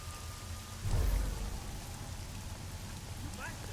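Steady rain hisses across a scene in the video game Deus Ex: Mankind Divided, with a deep thunder rumble swelling early on and then fading back into the constant downpour.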